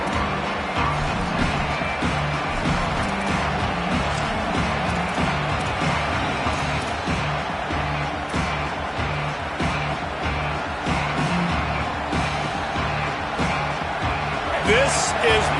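Stadium crowd noise from a college football video game: a steady, loud roar of fans that fills the whole stretch continuously, with play-by-play commentary voices running over it.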